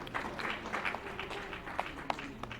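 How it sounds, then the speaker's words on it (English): An audience at a formal gathering gives a round of applause, moderately loud clapping with a few sharp individual claps standing out, steady for a couple of seconds. "another round of applause for him."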